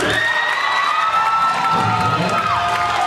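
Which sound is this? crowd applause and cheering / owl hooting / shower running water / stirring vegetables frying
crowd applause and cheering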